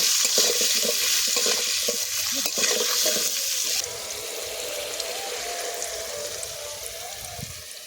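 Eggs fry in a pan with a bright, steady sizzle and stirring scrapes for about four seconds, then the sizzle drops to a softer, quieter frying sound.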